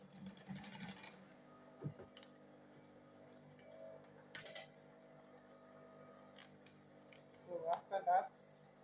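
A sewing machine stitches a bag lining quietly in a room, with soft mechanical ticking and brief louder bursts of running near the end.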